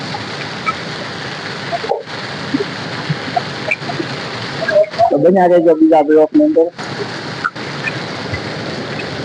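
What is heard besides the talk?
rain and storm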